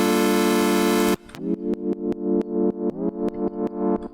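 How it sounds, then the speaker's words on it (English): A sustained distorted synth tone cuts off, then a sidechained pumping bass pulses in a steady rhythm, each beat swelling up with a sharp click at its start. "remove that sort of distortion and clicking that you hear every time it fires"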